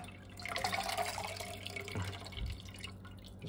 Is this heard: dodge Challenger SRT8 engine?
no